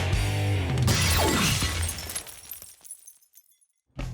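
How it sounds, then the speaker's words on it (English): A loud crash of glass shaking itself to pieces from sound resonance, followed by fragments tinkling and scattering as it fades out, then a brief sharp noise at the end. "the glass literally shook itself to pieces"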